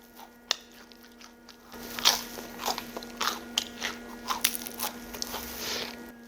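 Crisp crunching bites into fermented okara whole-wheat bread, several distinct crackly chews in quick succession, close and clear over a faint steady hum.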